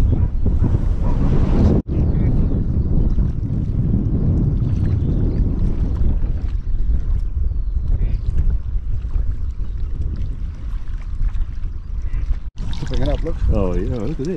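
Strong wind buffets the microphone beside the water during a whitebaiting outing, a constant loud rushing roar with a couple of brief dropouts.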